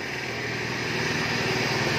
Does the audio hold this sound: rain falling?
no